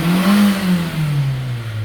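A car engine turns over and catches, then revs with a steady harmonic drone that rises slightly and slowly falls off, close and loud, with no voices over it.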